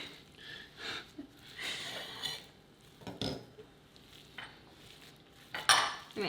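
Casserole ingredients with bacon are mushed and stirred in a dish, giving scraping, clinking utensil sounds in irregular bursts that are close and moderately loud, with no talk.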